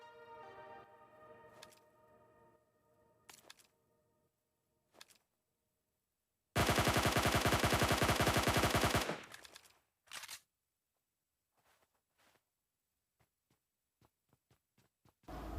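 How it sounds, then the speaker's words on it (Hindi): Cover fire from a Mini rifle in a shooter video game, a loud sustained rapid burst of about two seconds standing out among scattered fainter shots, clicks and quiet game sounds. "इसका टीममेट इसको कवर फायर देने के लिए मिनी चलाता है"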